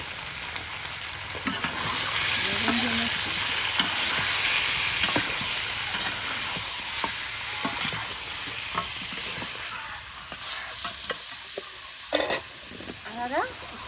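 Chicken meat being stir-fried bhuna style in a pan by an elderly woman, a steady soft sizzle with repeated scraping stirs and sharper clatters near the end, under occasional talk.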